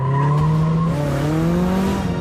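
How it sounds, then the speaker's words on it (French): A race car driven with grip-racing technique rather than drifting accelerates hard through corners, its loud, steady engine note rising and bending continuously with a faint tyre squeal throughout. "Jamie maintient l'adhérence, cherche la corde et accélère dans les virages."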